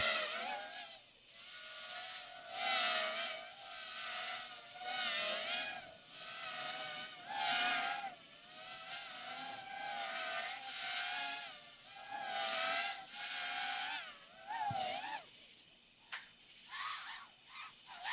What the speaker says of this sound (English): Let's use a drone to check the condition of the inside of the building.